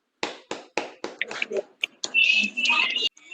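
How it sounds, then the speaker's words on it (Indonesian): A few sharp, evenly spaced claps ring out in a quiet classroom, then give way to soft, close voices and brief rustling. "ya tepuk tangan untuk Abisa semuanya"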